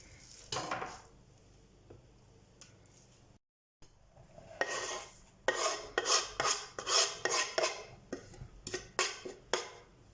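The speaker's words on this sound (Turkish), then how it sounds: "Bir tutam maydanozumu aynı şekilde ince ince doğruyorum." A knife finely chops parsley on a cutting board in a quick, steady run of sharp taps, close and clear, after a quieter start with a few scattered knocks.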